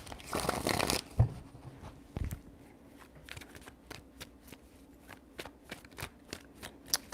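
Tarot cards are shuffled in a burst of riffling, then a rapid run of crisp, close card snaps and flicks continues at an uneven rhythm with no talk.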